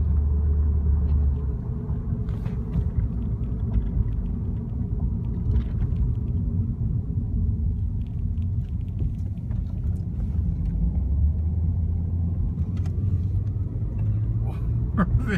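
A truck driving along with a Pepsi balanced on its bumper, a continuous low engine and road rumble heard from inside the cab, steady with small bumps and clicks throughout.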